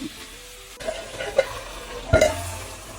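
A spoon stirs potato, cauliflower and peas masala in a pan, giving soft scraping strokes and a couple of louder knocks over a low frying sizzle.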